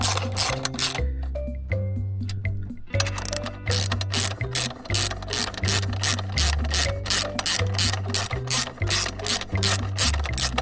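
A hand ratchet with a 12mm socket clicks rapidly and steadily, up close and loud, as bolts are turned on a Yamaha MT-07 motorcycle, with one brief pause early on.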